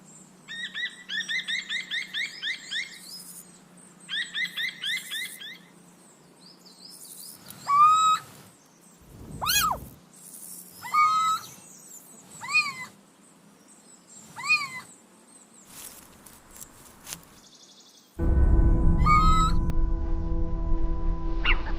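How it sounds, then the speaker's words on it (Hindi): Several high, cat-like wailing calls from little owls, with twittering bird chirps early on and a loud rumbling noise near the end. "छोटे उल्लू अपनी सीमाओं की सुरक्षा के लिए पुकार लगाते हैं"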